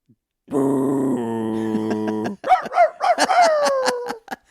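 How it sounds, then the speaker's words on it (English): Dog barks in a quick run of sharp, pitched yelps at close range, following a sustained tonal whine or hum, with nothing else behind it. "That's a dog."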